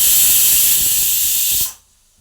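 A pressure cooker on a gas stove lets out a loud, steady whistling hiss of steam that holds for under two seconds and then cuts off abruptly into near silence.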